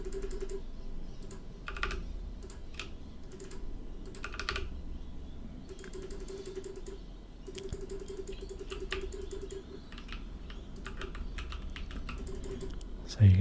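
Rapid clicking keystrokes on a computer keyboard during World of Warcraft play as a Holy Priest, irregular bursts and steady patter throughout, close and crisp, with a low soft voice murmuring underneath.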